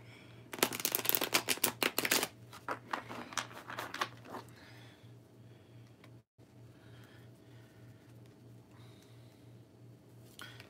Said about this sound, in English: A couple of shuffles.